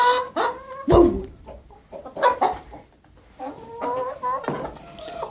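Backyard chickens cluck and squawk nearby in short, irregular bursts, several birds calling over one another with brief pauses between outbursts.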